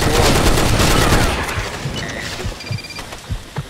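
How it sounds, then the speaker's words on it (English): Rapid bursts of gunfire from the first-person shooter Blackshot in a competitive match, a loud dense volley up front thinning into scattered single shots, no talking. "the guy is shooting"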